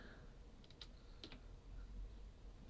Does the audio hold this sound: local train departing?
no